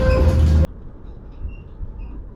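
A tram rolls along its tracks, with a loud burst of mechanical noise in the first moment that drops to a steady low rumble and rattle from inside the car.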